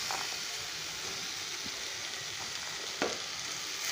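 Boiled banana flower goes into a hot pan for a mochar ghanto, giving a steady, moderate sizzle with a brief sharper spatter near the end and no talking.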